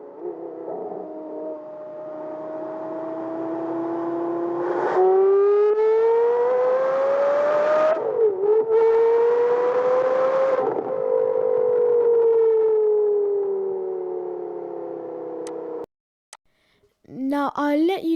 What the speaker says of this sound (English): this V10 engine comes from an F1 car